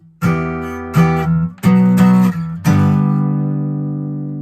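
Acoustic guitar strums the chorus chords of a song: four bright, full strums in quick succession, each ringing briefly before the next, the last one left to sustain and slowly fade, close and loud with no voices.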